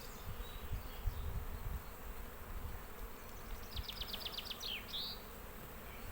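Honey bees hum in a dense, steady buzz at an open, crowded hive, with faint handling noises close by.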